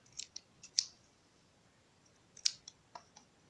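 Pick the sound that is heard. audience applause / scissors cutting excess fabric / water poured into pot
scissors cutting excess fabric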